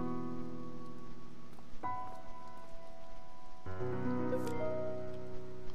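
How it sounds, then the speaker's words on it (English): Rain in the video game To the Moon, a steady soft patter running through the whole stretch beneath sustained music tones, with no speech. "Wait, in the rain? Yes, in the rain."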